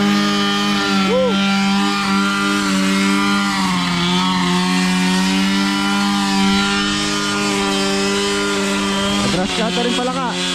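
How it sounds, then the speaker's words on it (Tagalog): Grass cutter engine running steadily at an outdoor work site, a loud buzzing drone with a sustained pitch and slight revving near the end, with voices talking in the background. "Grass cutter rin pala ka."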